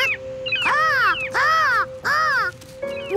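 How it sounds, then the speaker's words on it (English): Seagulls call overhead in a cartoon scene, three loud, harsh cries in a row with a steady tone humming underneath and a fourth call beginning at the end. "Well, yeah, seagulls."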